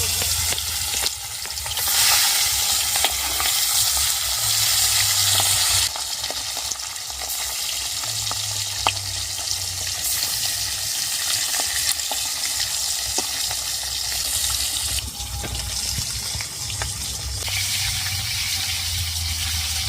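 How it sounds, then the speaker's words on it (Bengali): Aila fish frying in hot oil, a loud close sizzle and crackle that swells and eases in waves as pieces go into the pan, with no voices. "গরম হয়ে গেছে এবার আমি একে একে মাছগুলো তেলে দিয়ে দেবো"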